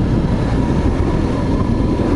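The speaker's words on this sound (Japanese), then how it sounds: "お、電車。" A train passing near a coastal road by Toba in the rain, a steady broad rumble that holds evenly for a couple of seconds with no voices.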